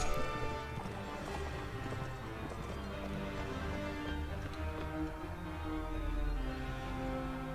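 A horse gallops uphill in the Mount and Blade video game, a dense run of hoofbeats mixed with clashing battle noise and game music, continuous and fairly loud throughout.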